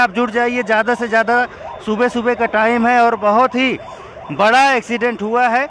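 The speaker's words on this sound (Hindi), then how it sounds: "पुलिस के सायरन आप सुन सकते हैं।" A police siren wails in rising and falling sweeps, loud and nearby, at a serious early-morning road accident at Bata Chowk in Faridabad involving an i20 car. Someone talks continuously over it.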